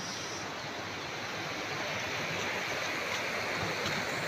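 A stream rushes steadily beneath a hanging bridge, a dense, even wash of flowing water that stays constant throughout with no voices.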